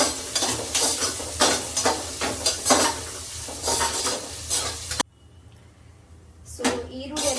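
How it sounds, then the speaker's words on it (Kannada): Onions sizzle and stir in a hot pan with garlic and spices for a Sankranti pongal and sambar meal, with repeated scraping and stirring strokes over a steady frying hiss, then a sudden quieter stretch near the end. "ಚೆನ್ನಾಗಿ ಫ್ರೈ ಮಾಡೋಣ."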